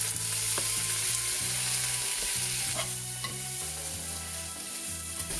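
Diced onions, peppers and boiled new potatoes frying in a pan, a steady close sizzle with occasional stirring scrapes and clatters throughout, no talking.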